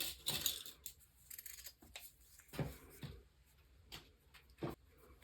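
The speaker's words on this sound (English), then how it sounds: "And then you're going to cut 2 out of felt and 2 out of your head fabric." Scissors cut pieces of felt and fabric for a bunny's ears in several short, crisp snips spread across a few seconds. Quiet rustling of the material comes between the cuts, and no one speaks.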